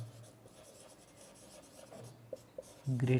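Pen or marker scratching out a math symbol on a writing surface, a soft continuous scraping with a few brief taps and a louder burst of strokes at the end, close by, with no talk.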